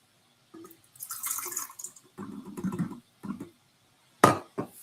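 Liquid pours in short splashing bursts, with gurgling and a sharp knock near the end, close by.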